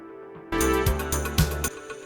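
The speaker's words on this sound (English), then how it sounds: "the whole mix, without the vocals, mixed through a degrading plugin, a lo-fi plugin" An 80s-style song mix without vocals, run through a lo-fi degrading plugin, enters after a brief quiet start as dense, thumping band music with punchy beats, alone for under two seconds.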